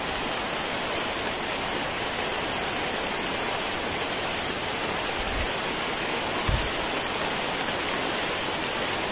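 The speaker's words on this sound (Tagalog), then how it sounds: "Lakas ng ulan mga idol." Heavy rain pours down in a steady, dense roar, with a couple of low thumps partway through.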